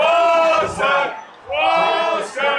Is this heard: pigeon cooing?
no